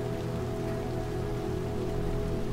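Steady rain in Little Nightmares 2, a dense constant patter of drops on surfaces with a faint tonal music hum underneath, no talking.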